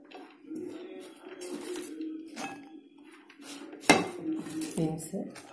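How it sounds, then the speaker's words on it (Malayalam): Green beans, onion, coconut and green chilli are tipped into a bowl, giving close, intermittent clinks and clatters of utensils against the dish, with one sharper knock near the end. "ഇനി എല്ലാം ഒരു ബൗളിലേക്ക് ഇടുകയാണ്."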